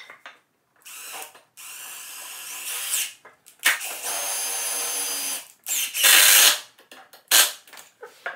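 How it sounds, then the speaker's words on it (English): A power drill drives screws into the wooden frame of a bowyer's bench, several whirring bursts of varying length separated by short gaps, loud and close with no voices. "And then we'll drive screws to hold that to the bottom of these."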